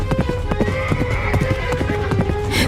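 A horse ridden by a masked young rider clip-clops in, with a steady, fairly close rhythm of hoof strikes carrying over a background of music.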